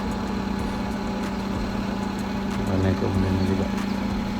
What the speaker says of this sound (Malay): Jom kita test panaskan enjin. Kita panaskan enjin.